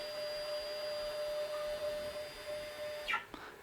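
A Sainsmart Genmitsu PROVerXL CNC machine with a 6060 extension kit jogging an axis in a test, a steady motor whine and hum that cuts off near the end with a brief clunk.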